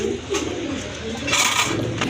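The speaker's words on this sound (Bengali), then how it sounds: "আর একটা রেসার কবুতর দেখতে পাচ্ছেন" Racer pigeons coo nearby in soft, throaty, repeated calls, rising and falling continuously over a low background hum.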